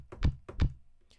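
Two deep, heavily filtered boom drum hits pitched down 15 semitones with drive at 100%, in quick succession, thick and muffled with a low rumbling body, followed by a faint airy tail.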